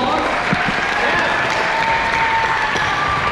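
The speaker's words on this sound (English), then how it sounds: "Would you give them a round of applause?" Church congregation applause, a steady wash of many hands clapping at close range, with voices and cheers mixed into the crowd throughout.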